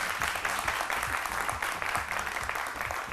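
Studio audience applause on a French midday television show, a dense steady clapping crowd sustained throughout without pause.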